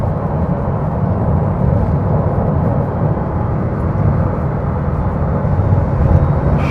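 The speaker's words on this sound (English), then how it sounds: "Listen to those turbos." Bugatti Veyron with 1200 horsepower accelerating hard, a steady loud low-pitched engine roar with turbo rush heard from inside or near the car, sustained without pause and no talking.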